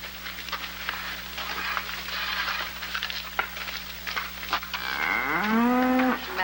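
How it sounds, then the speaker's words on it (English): A big cow moos loudly near the end, a long falling low bellow over background noise and faint activity in a 1950s film scene. "you look at this big cow"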